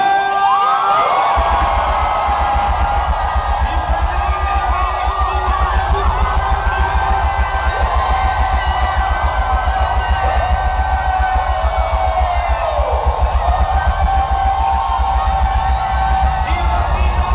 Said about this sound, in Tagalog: Isa pang nakabibiging sigaw!